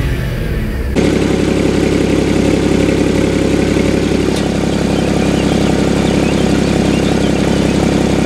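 A Porsche engine idles with its exhaust valves closed, a steady, close, fairly loud low rumble that starts abruptly and holds an even drone throughout.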